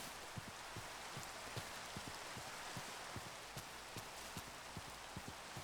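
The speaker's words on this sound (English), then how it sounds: "Oh, and it's raining" Rain in the Minecraft video game falls as a steady broadband hiss, with soft regular drop-like ticks running through it, even and continuous from start to finish with no talking.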